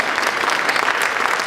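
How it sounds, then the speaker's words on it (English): Loud, dense audience applause for a Park Avenue Methodist Church choir at an awards celebration, many hands clapping close and continuously. "so give them a big round of applause."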